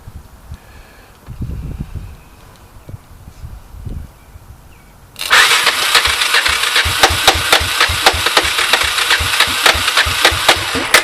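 An abandoned 1985 Honda ATC three-wheeler sits outdoors, with a couple of cranking attempts before its small engine fires after a cold start and keeps running at a fast, rattly idle.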